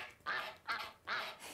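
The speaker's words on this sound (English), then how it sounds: "Uh-oh, duck crossing again." Big ducks at a crossing giving three loud nasal quacks in quick succession, each a drawn-out honking call, close by and with no talk over them.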